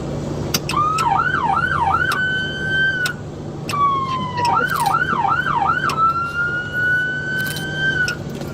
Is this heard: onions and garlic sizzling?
no